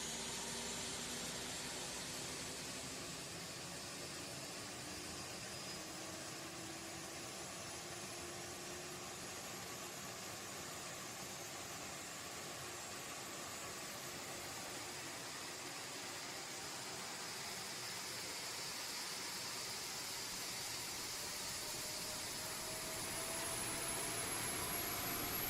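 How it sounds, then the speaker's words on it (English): An Airbus A320neo auxiliary power unit in X-Plane 11 spools up into a steady, broad turbine roar with a faint rising whine. It hums on evenly at a constant level with no talking. "Hear that APU spooling."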